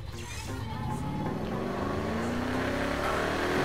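A car engine in Need for Speed Heat drones steadily with a rising pitch as it accelerates, a continuous loud motor note with faint talk underneath.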